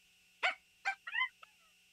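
Someone mimics a California quail call with their voice: two sharp, bright notes followed by a quick warbling phrase and a tiny final chip, close and clear against silence.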